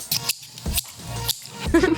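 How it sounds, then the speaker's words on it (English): Scissors handled and snipped indoors during a school podcast recording, giving a few short, crisp clicking cuts spaced about half a second apart, fairly close, with faint children's voices nearby. "put the scissors down"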